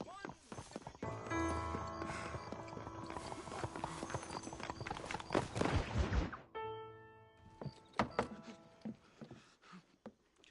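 Hooves of a horse-drawn carriage clip-clop in a quick, close rhythm alongside wheel and street noise, with a voice speaking over it, then a sharper clatter before the sound fades.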